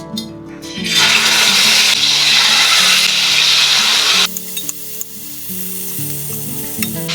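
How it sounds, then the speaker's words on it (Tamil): Chicken drumsticks fry in oil in a home kitchen with a loud, close, crackling sizzle. The sizzle eases about halfway through, leaving quieter bubbling and occasional stirring clicks. "நம்ம அந்த சிக்கன் ட்ரம்ஸ்டிக்கை ஃப்ரை பண்ணி எடுத்துடலாம் ஒரு ஒரு குளிக்கண்டி ஆயில் விட்டுக்கலாம்"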